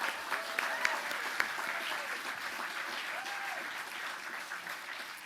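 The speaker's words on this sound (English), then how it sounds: "Let's give a round of applause again for this year's champions." A gala audience applauds the year's champions: steady, moderately distant clapping with a few sharper individual claps, continuing evenly throughout.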